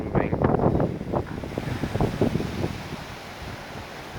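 Strong high wind buffets a balcony solar panel stand beside fast-moving water, a loud, continuous roaring rush with gusty rumbling bursts that ease slightly toward the end.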